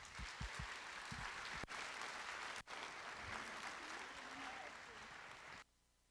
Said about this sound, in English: let's give all of these ladies a big round of applause